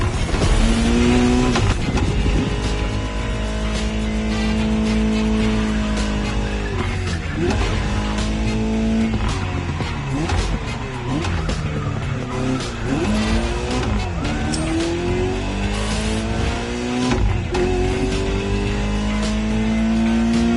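Ferrari 308 GTS driven in The Crew Motorfest, its engine revving up and down through gears in a loud, steady drone, with occasional tire squeal as the car accelerates and slows.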